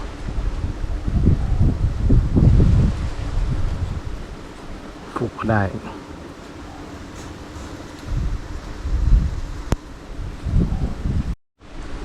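Strong wind gusts buffet the microphone outdoors during a fishing trip for snakehead, with a steady rushing roar throughout and someone talking over it in bursts.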